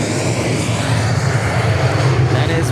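A Gulfstream business jet at Dallas Love Field gives off a steady, loud engine roar with a broad rumbling low end, continuous and unbroken for the whole stretch, with no voices over it.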